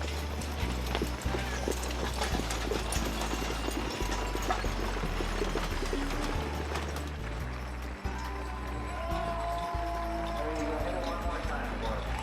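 Draft horse teams in harness at a competition in Sandpoint, Idaho, hooves clip-clopping in a steady, close, rhythmic beat, with occasional whinnies and a narrator's voice over the hoofbeats.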